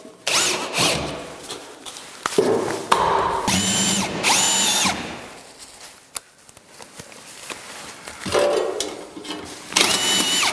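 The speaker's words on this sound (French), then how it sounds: "je visse les morceaux de rails sur les poutres" Power drill driving screws to fix metal rails onto roof beams for a plasterboard suspended ceiling under a sloped roof, in repeated bursts of high whining spin with short pauses and clanks between, fairly close and loud.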